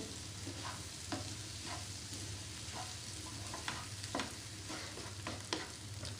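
Egg green fry sizzles in a pan, a steady frying hiss broken by the scrape and tap of a spatula stirring at irregular intervals, close and moderately loud.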